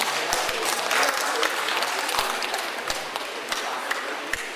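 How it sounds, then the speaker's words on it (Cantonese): An audience at a community award ceremony applauds, a dense, steady burst of clapping close by with a few sharper individual claps standing out, fading slightly toward the end. "俾大力啲掌聲啦！"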